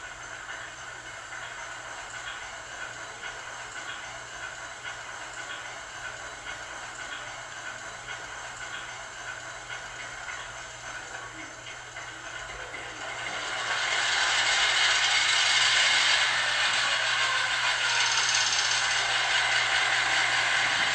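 A Rapido SW1200 model diesel locomotive fitted with ESU LokSound cranks and starts up, a steady mechanical hum swelling into a louder hissing, rumbling idle partway through, with no talking.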